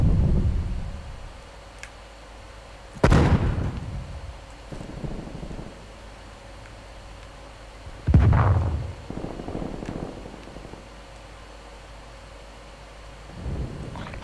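Two loud booming shots ring out in Call of Duty Cold War, each followed by a rumbling echo, with a fainter third report near the end over quiet ambient game noise.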